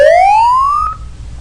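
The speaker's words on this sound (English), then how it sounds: "Now you have 3 tracks and it should sound like a siren." A synthetic siren sound effect built in Audacity from layered tracks sweeps upward in pitch in a single loud, close tone, then cuts off abruptly, leaving faint low background hum.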